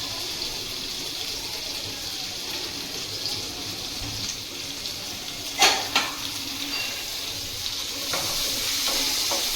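Punjabi vegetable gravy for matar paneer frying in a pan, a steady close sizzle with a few sharper clinks of stirring partway through, the hiss swelling slightly toward the end.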